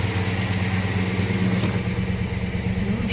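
A 1957 Studebaker Golden Hawk engine idles steadily at roughly 1,400 to 1,500 RPM on a 1964 hardtop test bed. The low, even rumble holds close and continuous with no talk.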